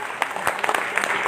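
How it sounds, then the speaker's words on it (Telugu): Scattered clapping from an audience at a folk song performance, uneven and patchy with sharp individual claps standing out, moderately loud. "చప్పట్లు కొట్టాలి గట్టిగా."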